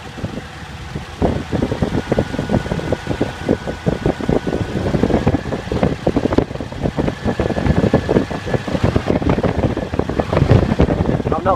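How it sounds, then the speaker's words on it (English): A cold car engine idles steadily nearby, a fast, light mechanical ticking of the timing chain running under a continuous broadband hum. "You can just hear the timing chain"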